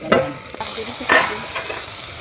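Bay leaves and cinnamon sizzle in hot oil in a kadai while being stirred, with a continuous crackle broken by a few sharp scraping strokes of the spoon, close and fairly loud.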